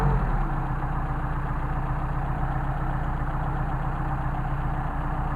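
A Mercedes 190SL engine with Solex carburetors idles steadily at close range, a smooth, even low rumble that holds constant throughout with no voices.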